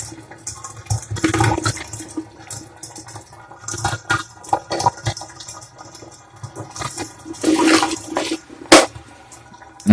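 Water draining from a bathtub that was clogged with hair and just cleared with a drain snake, giving uneven gurgling and splashing bursts with a few sharp clinks, heard close up with no talk.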